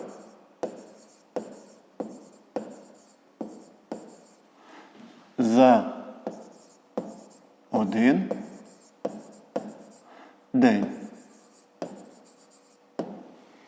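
Handwriting on paper with a pen, a steady series of short, crisp strokes and taps close up, with a voice speaking briefly now and then between them.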